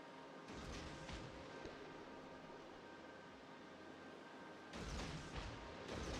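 Heavy naval guns fire in World of Warships, deep booming blasts over a continuous roar of sea and engine noise, with a loud burst near the start and another salvo toward the end.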